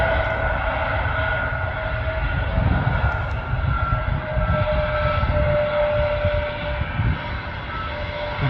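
A Lufthansa airliner lands at Manchester Airport and brakes hard, a loud, steady roar of engines and reverse thrust rumbling from some distance with no voices.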